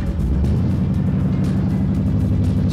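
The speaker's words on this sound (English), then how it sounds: "we're sitting in one of the coolest kit cars imaginable. This would be a Kit AC Cobra." A kit-built AC Cobra sports car idles with a loud, close, lumpy rumble, its deep engine note pulsing steadily throughout without any talk over it.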